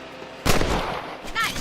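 Rifle shot ringing out in the Western video game Red Dead Redemption while hunting rabbits, a single loud crack followed by a rumbling tail and a brief higher tone near the end.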